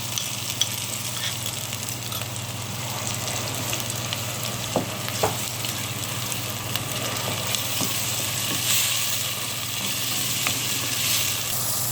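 Oil and tomato fry in a pan for shiro, giving a steady, even sizzle that continues throughout with no talking.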